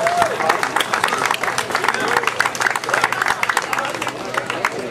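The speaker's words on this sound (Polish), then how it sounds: "Wielkie brawa dla załogi" Audience at a sailing regatta prize ceremony clapping for a yacht crew, dense and lively applause throughout, with an announcer's voice and crowd chatter mixed in.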